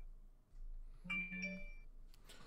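A phone ringtone chimes during a live charity stream, a short burst of clear electronic tones lasting about half a second, moderately loud over a quiet room.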